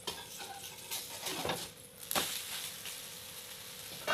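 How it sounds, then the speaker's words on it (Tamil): Green gram dosa cooking with a little ghee on a pan gives a soft, steady sizzle with faint scraping and clinking of utensils, heard up close with no voices. "தோசைகள் ஊற்றி வச்சு நான் கொஞ்சமாக நெய் ஊற்றிருக்கேன்."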